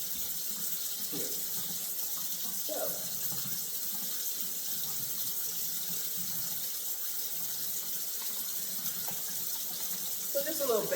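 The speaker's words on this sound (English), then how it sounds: "I'm going to get me some warm water, let that water run just a little bit" Warm water runs from a kitchen tap in a steady, unbroken stream, with faint kitchen clatter underneath.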